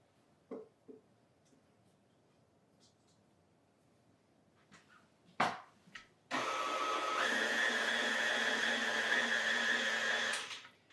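An electric mixer beats kitchen sink cookie dough. After a few scattered knocks, its motor starts with a loud, steady whir, runs for about four seconds and stops.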